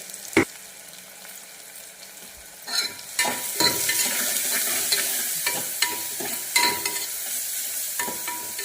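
Onions with turmeric sizzle in a frying pan, a steady hiss of oil broken by sharp clinks and scrapes of a spoon stirring, rising louder partway through.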